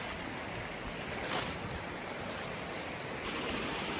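Stanley Creek runs over a trail crossing in the Rich Mountain Wilderness woods, a steady broadband rush of flowing water that holds even and continuous throughout with no voices.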